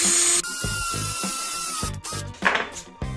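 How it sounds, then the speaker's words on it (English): A hand-held drill bores into a piece of wood, a whining motor buzz broken by a series of short uneven bursts and pauses as the bit bites in, close and fairly loud with no talking. "you wanted to drill a really close to 90-degree angle hole in a piece of wood"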